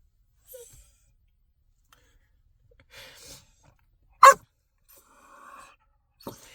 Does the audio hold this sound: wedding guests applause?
no